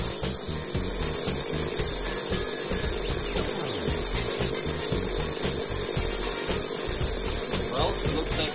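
A ThunderJet slot car motor running on a dyno, a steady buzzing whir with faint rhythmic rattling, continuous and close throughout.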